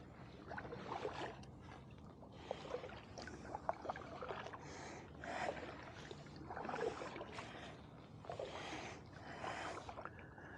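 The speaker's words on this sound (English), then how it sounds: "I'm just kind of paddling around" A kayak paddled on water, soft splashing paddle strokes and gentle gurgles at an uneven pace, faint and close, with no speech.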